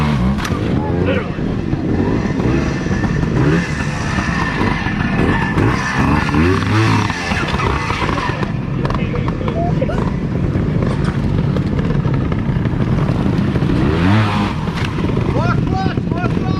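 A motorcycle engine revs loudly and continuously during wheelie training, its pitch rising and falling with the throttle while a voice talks over the noise.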